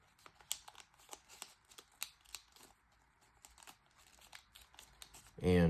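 Paper flaps of an origami jet being squash folded, giving quick crinkles and crisp creasing taps in irregular bursts, close and fairly quiet, ending in a short loud bump.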